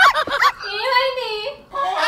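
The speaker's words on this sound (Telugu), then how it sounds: "ఏంది అంత కోడి సప్పుడు వస్తుంది" A chicken in a village home gives a few brief, shrill, drawn-out squawks, close and fairly loud, preceded by a short burst of cackling.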